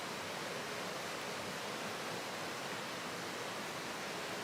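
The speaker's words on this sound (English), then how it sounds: "the focus of the painting is the rushing water" Rushing water of a forest stream gives a continuous, even roar with no breaks, steady and fairly close, with no voices.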